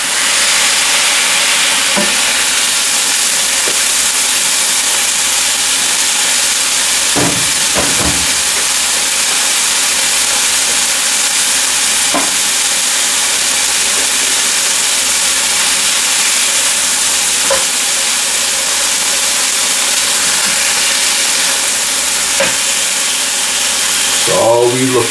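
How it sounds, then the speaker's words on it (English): A mushroom Swiss burger patty sears on a hot surface, giving a loud, constant hiss and sizzle that runs unbroken throughout, with a few dull knocks and a spatula scrape near the end. "But it do help in the searing process. Get a nice little sear on it."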